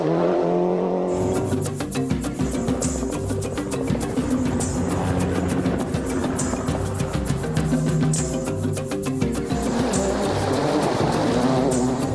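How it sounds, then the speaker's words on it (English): A rally car speeds along a Kenyan stage of the 1998 Safari Rally, its engine howling with rapid revving and repeated gear shifts, loud and close throughout. "Richard Burns set off into the Kenyan dawn, starting his day well by posting the fastest time on the first section."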